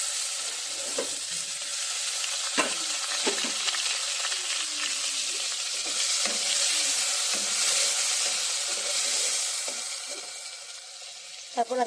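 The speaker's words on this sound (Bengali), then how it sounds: "এখন আমি ডাঁটা আলুটা একটু তেলে ভেজে নেব।" Drumstick stalks and potatoes frying in hot oil with black cumin and fenugreek seeds for a hilsa curry, a steady close sizzle with occasional stirring clicks and bursts of spatter throughout.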